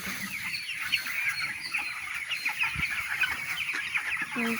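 A flock of farm chickens clucks and chatters nonstop at close range, with overlapping calls and an occasional soft flutter of wings.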